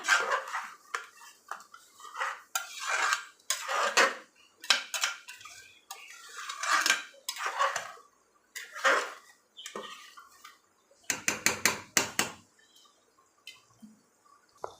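A spoon scrapes and clinks against a metal pot while stirring Chettinad mutton gravy, in short, irregular bursts, close by with quiet pauses between.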